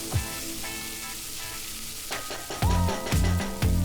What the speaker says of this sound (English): fry this until the tomatoes are nice and soft.